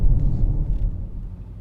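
Low rumbling engine and road noise from a Porsche with 157,000 kilometres on the odometer, heard from inside the cabin while driving, steady and fairly loud with no talk.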